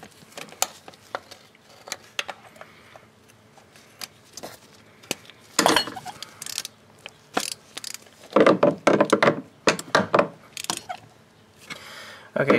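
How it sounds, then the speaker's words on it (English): A ratchet turns a spark plug on a 2004–2008 Ford F150 5.4L engine, with sharp close clicks coming in scattered single ticks and then denser rapid bursts of ratcheting. "push down on your ratchet so it's perfectly seated against the nut on the spark plug, and we're going to back it up"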